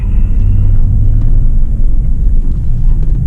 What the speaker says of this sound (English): I'm going to start driving around